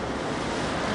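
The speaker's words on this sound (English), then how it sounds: "Ocean." Caribbean ocean waves make a steady, full roar of surf with gusty wind noise over it, heard alone for about a second.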